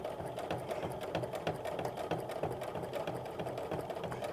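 A domestic sewing machine stitches through quilt batting, a fast, steady mechanical whirring and rattling of the needle, close and constant throughout.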